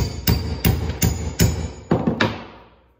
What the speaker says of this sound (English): All right, hammer it a few times.